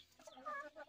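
Several Jersey Giant and Rhode Island breeder chickens cluck in a short, close burst. The calls rise and fall with no talking over them.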